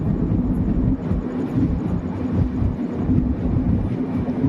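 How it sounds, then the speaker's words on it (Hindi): Kota Sirsa Express passenger train passing on a single-track line between Jaipur and Sawai Madhopur, a loud, close, steady low rumble and roar of rolling wagons with no gaps and no talking. "कोटा सिरसा एक्सप्रेस।"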